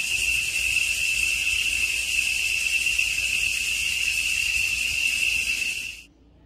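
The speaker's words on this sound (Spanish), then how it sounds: "Todos ustedes conocen cómo cantan los machos de las chicharras, ¿verdad?" A male cicada sings a loud, steady, unbroken high-pitched buzzing drone, close by and alone, cutting off abruptly near the end.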